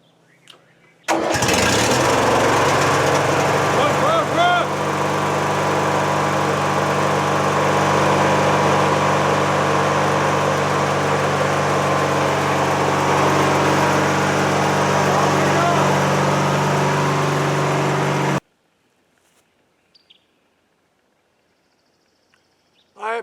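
Engine of an old Craftsman L9 riding lawnmower fires up, then runs loud and steady at a constant idle-like drone for about seventeen seconds before cutting off abruptly into near silence.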